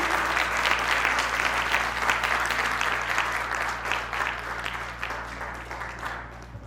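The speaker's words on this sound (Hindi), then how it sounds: "तालियां रुकनी नहीं चाहिए हमारे टीचर्स के लिए।" An audience at a college commerce festival applauds its teachers with loud, sustained, crowded clapping that slowly tapers off.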